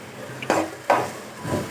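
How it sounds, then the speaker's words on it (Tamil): A spoon scrapes through a thick spiced curry mixture in a cooking pan, three distinct stirring strokes close by, with a faint sizzle between them. "அது போட்டு நல்லா கலந்து விட்டுருங்க"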